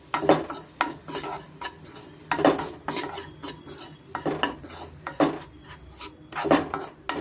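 Fine semolina (chiroti rava) roasting in ghee in a pan for mango kesaribath, heard as repeated scraping and clinking of a spoon against the pan in an irregular stirring rhythm, close and moderately loud with no talk.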